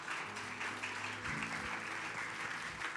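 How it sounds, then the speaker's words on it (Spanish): A congregation claps together during a church service, brisk applause spread across the room, moderately loud and steady for a few seconds over a low sustained tone. "Dele fuerte ese aplauso al Señor."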